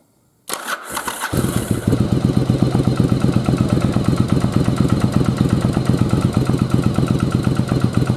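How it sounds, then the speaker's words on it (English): A second-generation Yamaha Virago motorcycle is cranked in cold weather with the choke on, cranking briefly, then firing up into a loud, rapid, lumpy idle that keeps running close by. "let's see if this second gen will start up in this cold, cold weather"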